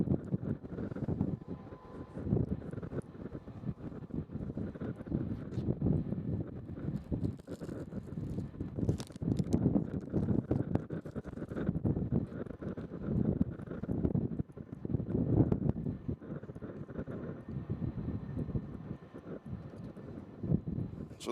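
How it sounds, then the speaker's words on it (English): A UPS cargo plane taking off at Louisville's UPS Worldport, a broad distant jet roar that rises and falls under gusty wind noise across the whole stretch. "We got the UPS taking off."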